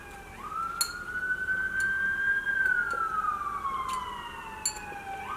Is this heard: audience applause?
no